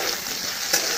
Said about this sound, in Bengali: তার জন্য একটু আলুটা ভেজে নিচ্ছি